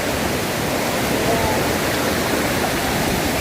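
Steady roaring rush of a waterfall carrying brown rainwater during the Kenyan rainy season, a loud continuous broadband wash heard up close with no breaks.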